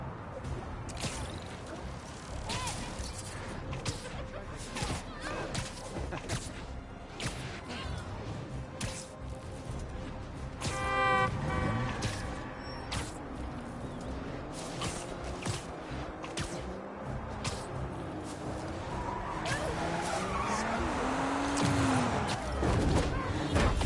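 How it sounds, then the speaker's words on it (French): A busy, chaotic Spider-Man 2 car chase fills the scene with whooshes, impacts, crashes and squealing tire skids, dense and continuous throughout, with a rising engine-like whine toward the end. "il y a un crime, course poursuite"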